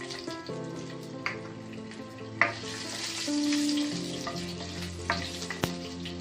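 Garlic hits hot oil already holding crushed fennel, cinnamon and cloves for a Tamil tomato kurma. It sizzles steadily with a few stirring scrapes and clinks from the pan.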